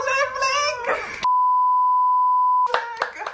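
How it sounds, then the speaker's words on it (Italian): A single steady censor bleep tone runs for about one and a half seconds, loud and alone, cutting in between stretches of lively Italian talk during a capture-the-flag hacking competition. "Questo verrà bippato."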